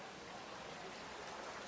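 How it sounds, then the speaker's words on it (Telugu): A roadside waterfall in the Balapalli forest along the Tirumala walking route during the rainy season, a steady, even rush of falling water, soft and continuous with no voices. "వాటర్ ఫాల్స్ బీభత్సం"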